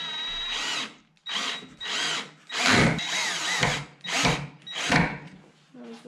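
Power drill driving fasteners into 42 by 42 millimetre wooden beams on a DIY storage-unit frame: about six loud, close bursts of whirring in a steady stop-start rhythm, with short pauses between them.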